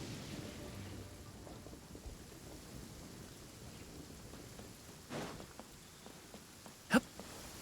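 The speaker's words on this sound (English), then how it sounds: "Rain? Oh man, I hope I brought the laundry in." Steady rain hisses over a low rumbling thunder in the video game Genshin Impact, with a sharp crack of thunder near the end.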